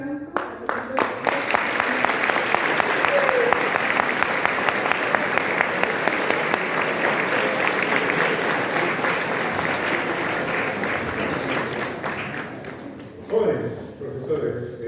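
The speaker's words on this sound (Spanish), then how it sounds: "Recibimos con un gran aplauso al profesor." Audience applause welcoming a visiting mathematics professor at a school, loud sustained clapping that fades near the end before a voice begins speaking.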